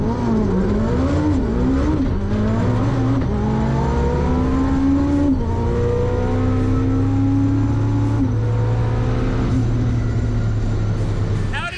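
Adrian's Red Rocket, a 4-cylinder all-wheel drive drag car, roars loudly through a record 9.1-second pass, its engine note rising and shifting through gears in a sustained high-revving blast, with talk mixed in.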